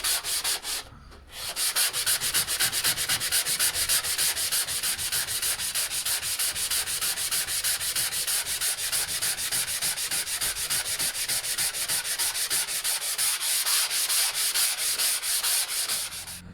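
Sanding paper of 120 grit rubs back and forth on a metal hospital bed headboard, a fast, steady scratchy rasp close by that pauses briefly near the start and then runs continuously.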